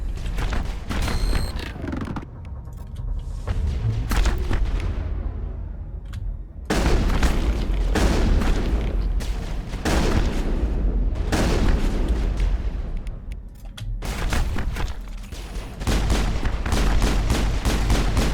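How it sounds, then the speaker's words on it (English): Gunfire in the video game Mass Effect, with dense repeated shots, booms and bursts of automatic fire hammering almost continuously, loud and close, with brief lulls between volleys. "You are getting shot by literally everyone and everything."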